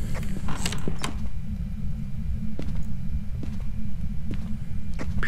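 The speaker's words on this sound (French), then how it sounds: "il y a des portes qui claquent" Doors creaking and slamming inside a haunted house in the ghost-hunting game Phasmophobia, several sharp creaks and knocks scattered over a steady low rumble of ambience, no talking.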